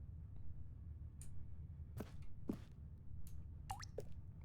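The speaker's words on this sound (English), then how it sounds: "I hear a water drip." Sparse water drips in The Stanley Parable: Ultra Deluxe, a few separate plinks and plops spaced irregularly over a low steady ambient hum, fairly quiet and close.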